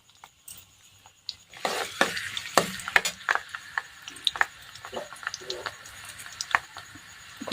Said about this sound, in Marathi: तेल छान गरम झालेलं आहे आणि जिरं सुद्धा बघा छान तळलं गेलेलं आहे